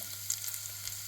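Artichokes roasting in a pan give off a faint, steady sizzle and crackle, with a low constant hum beneath.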